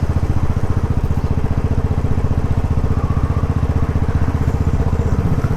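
A Royal Enfield Classic 500 single-cylinder motorcycle underway, its steady rapid thumping exhaust beat loud and continuous throughout with no pauses.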